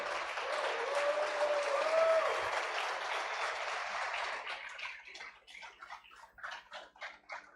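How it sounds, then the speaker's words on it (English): An audience at an awards ceremony applauds its judges, with dense, loud clapping that holds steady for several seconds, then thins into scattered individual claps toward the end. "And a round of applause to our judges as well."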